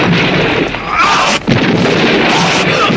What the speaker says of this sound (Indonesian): hingga tubuh Tumenggung Adikuna itu meledak hancur berkeping-keping